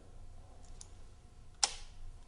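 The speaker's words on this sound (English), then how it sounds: "cock the shutter" A single sharp mechanical click near the end as a camera shutter is cocked, preceded by a faint softer click, against quiet room tone.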